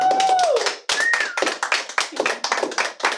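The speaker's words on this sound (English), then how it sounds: "Everybody, get out a round of applause." A studio audience at a talk show's season finale claps in bursts of separate hand claps, with a couple of rising whistles cutting through near the start; close and fairly loud throughout.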